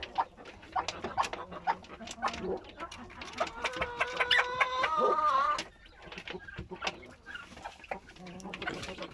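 A broody hen clucks repeatedly close by in a poultry coop, rising into a loud drawn-out cackle in the middle before settling back into intermittent clucks among other fowl.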